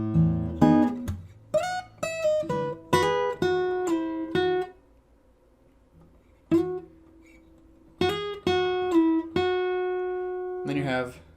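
Acoustic guitar notes from a piece, picked in two short phrases with slides and pull-offs, clear and close with a pause of near silence between them.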